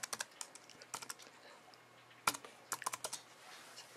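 Code being typed on a computer keyboard: quiet, close, irregular key clicks in short bursts with pauses between, alone in a hushed room.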